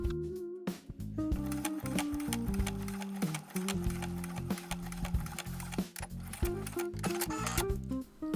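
A sewing machine runs in quick rapid bursts, top stitching bonded stretch vinyl appliqué pieces onto a cosplay bodice, with steady mechanical clatter and brief pauses over faint background music.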